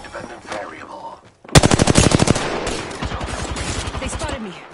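Fast rapid-fire gunfire in the Apex Legends video game, a loud, close burst of sharp rhythmic shots that starts abruptly and keeps going steadily, with brief speech at the start.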